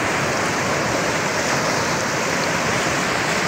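Floodwater of the Godavari river during heavy rain rushes in a loud, continuous broadband roar, steady and close, with no voices.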